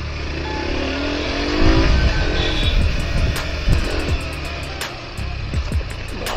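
A car with an open exhaust revs nearby in traffic, its rough engine rising and falling in bursts over a street din of passing motorbikes and a rider's wind noise.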